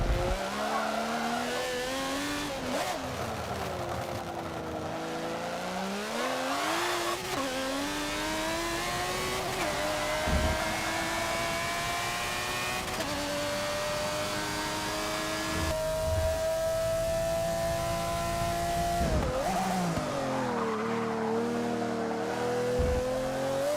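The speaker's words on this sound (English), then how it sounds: "we are going to move across to the Jaguar XJR9 on Silverstone" Jaguar XJR9 race car from the Forza racing game, lapping Silverstone: a loud, continuous engine note rising and falling through gear changes and throttle lifts, with brief tire squeal, no talking.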